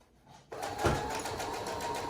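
A sewing machine starts up and stitches fabric for a face mask, a quiet steady rapid whirring run that begins abruptly after a brief near-silence.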